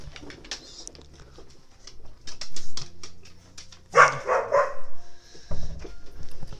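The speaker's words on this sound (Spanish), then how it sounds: "mi perro dijo, voy a ladrar un huevo" A pet dog barks in sharp, loud bursts indoors, several barks clustered in the middle of the clip, with smaller household noises and faint chirpy sounds before and after.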